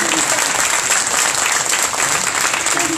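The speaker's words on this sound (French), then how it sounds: "j'aimerais que vous joigniez à moi pour remercier et applaudir chaleureusement nos invités" An audience at a literary round table on French-language writing in a minority context in Canada gives the guests warm, dense applause that stays steady and loud throughout.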